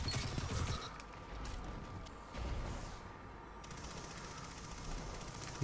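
Two submachine guns fire in Destiny 2 in rapid rattling bursts, loud at the start and again midway, with a busy game soundscape in between.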